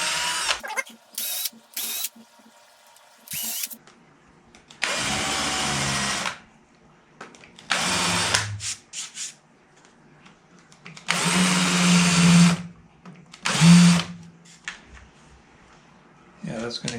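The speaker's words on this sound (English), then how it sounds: "I set up my little drill for this" A small drill bores counterbore screw holes partway into oak for a guitar fret-slotting sled, heard as several short whirring bursts separated by quiet pauses and handling sounds.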